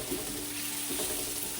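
Red onion softening in olive oil in a pan over medium heat, giving a steady, quiet, continuous sizzle with faint crackles throughout and no talking.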